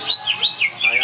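A green leafbird (cicak hijau) songbird chirps close and loud in a brief burst of rapid, high, sweeping whistled notes.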